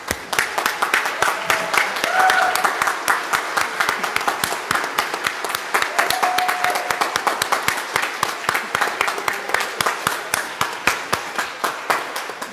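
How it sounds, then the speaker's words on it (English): A standing church congregation at a Sunday service applauds a departing member, with dense, steady clapping for about twelve seconds and a few scattered voices murmuring underneath. "So will you all please rise,"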